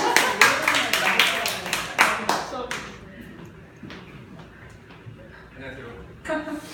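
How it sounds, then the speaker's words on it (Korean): An audience at a parents' education talk in Cheongdam-dong bursts into loud clapping that fades after about three seconds. Quieter room noise and a few scattered claps follow. "자, 뜨거운 박수."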